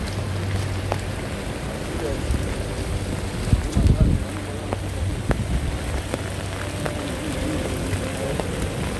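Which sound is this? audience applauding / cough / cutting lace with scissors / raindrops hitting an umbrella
raindrops hitting an umbrella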